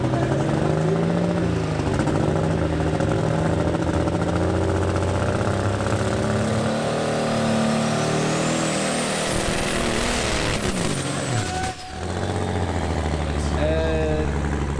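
A loud tractor engine roars steadily and close, its pitch rising and falling as it revs, then a high whine climbs before it cuts briefly and resumes. Voices talk underneath.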